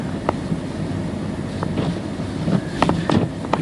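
Truck engine idling in a snowstorm in southeast Wisconsin, a steady low rumble buried under gusting wind noise, with occasional knocks and scrapes rising above it.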